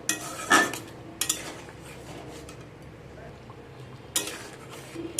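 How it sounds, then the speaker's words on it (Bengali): A spoon stirs salted pointed gourd curry in a pan, giving a few sharp scrapes and clinks against the metal separated by quieter stretches of soft bubbling, with a final cluster of scraping toward the end. "লবণ দিয়ে আবারও সব কিছুকে আমি ভালো করে মিক্স করে নেব।"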